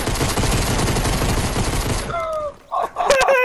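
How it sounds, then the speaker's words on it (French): Sustained heavy gunfire in a battle royale game fight, a loud continuous barrage for about two seconds that cuts off abruptly, followed by brief game sound effects. "J'ai tiré partout!"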